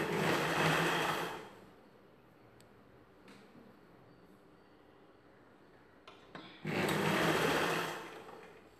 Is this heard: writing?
no